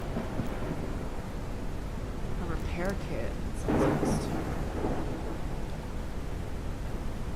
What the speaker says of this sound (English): It's a thunderstorm.